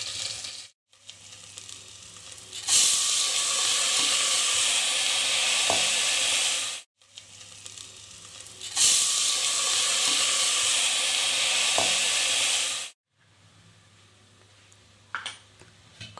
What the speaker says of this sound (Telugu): అల్లం వెల్లుల్లి పేస్ట్ వేసి వేయించాల